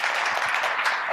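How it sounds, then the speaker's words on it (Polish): A short burst of applause, brisk clapping from a small group, fairly close and steady. "brawa."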